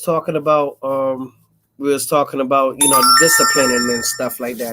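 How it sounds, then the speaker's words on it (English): A mobile phone ringtone chimes in with a bright, repeating electronic melody partway through, playing loudly under ongoing conversation among several people on a casual online call. "Excuse me, that was my phone."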